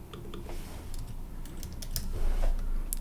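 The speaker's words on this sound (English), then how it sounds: "if you type Benedict" Typing a name into a chat search field in Bitrix24 on a computer keyboard: a run of close, uneven key clicks, light and steady, with no voices.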